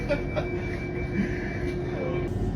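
A train sits delayed on the line, its steady low rumble and electrical hum filling the carriage, with faint clicks and a quiet background murmur throughout.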